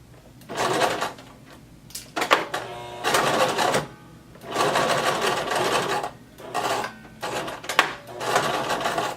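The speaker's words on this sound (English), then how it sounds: "I'm using 5/8 of an inch seam allowance to sew these two ties" Sewing machine sewing two fabric halter top ties together with a 5/8 inch seam: several bursts of rapid rattling stitching separated by short pauses and clicks, close and fairly loud.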